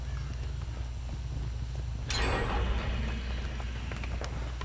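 Horse hooves clip-clopping in the Dead by Daylight video game, a steady muffled plodding rhythm under constant low game ambience, with a brief louder swell partway through.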